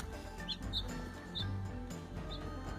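A sparrow stuck frozen to a pipe gives four short, thin chirps at uneven intervals over steady background music.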